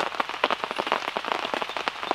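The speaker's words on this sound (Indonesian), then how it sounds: "suara gemercik hujan ya bisa jadi relaksasi lah buat kalian" Rain patters on a surface in a forest at a solo camping spot, dense irregular drops ticking close and fairly soft, with no voices.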